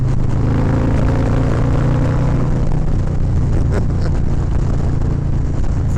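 Harley-Davidson Low Rider ST with a 131 engine and 483 cam rumbling loudly and steadily while riding, a deep continuous drone with wind noise throughout.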